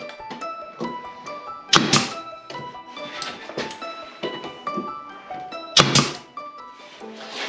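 Nail gun firing nails while building a vacuum box: scattered sharp thunks and clacks, two much louder shots standing out, close with some ringing background noise.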